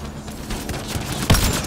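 Rapid gunfire from a fight around a turret in Mass Effect Andromeda, a fusillade of crisp shots with one heavier close blast near the end over a busy battle background.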